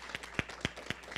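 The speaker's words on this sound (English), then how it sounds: "Please give them a round of applause." Short burst of conference audience applause, a handful of distinct claps spaced roughly evenly over about a second, fairly quiet and without voices.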